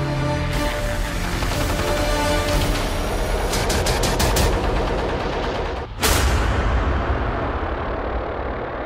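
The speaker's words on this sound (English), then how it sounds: "He went outside and started operating an anti-aircraft machine gun that he had never been trained on." An anti-aircraft machine gun fires in loud sustained bursts during the Pearl Harbor attack, dense rapid shots with a brief pause before a heavy blast-like resumption, amid battle noise.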